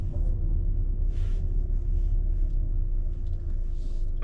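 A 2021 Mercedes GLB250 boxy SUV driving, heard from inside the cabin as a constant low engine and road rumble with a faint steady whine and light rustles on top.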